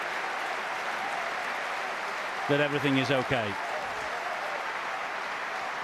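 The crowd at a Huddersfield versus St Helens rugby league match applauds in sympathy, a steady broad wash of clapping across the stand, while a commentator speaks briefly over it.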